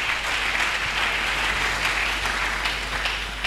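A church congregation claps together after a sermon prayer, a continuous mid-distance wave of applause holding steady throughout with a low background hum underneath.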